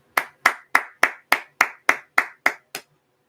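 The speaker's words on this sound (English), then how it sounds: "And I'm going to applaud." One person claps hands ten times in a steady, even rhythm, each sharp clap close and distinct with silence between, the last one slightly softer.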